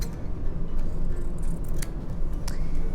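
Scissors snip through soft felt to cut out succulent petals, a few faint crisp cuts spaced apart over a low, steady background hum.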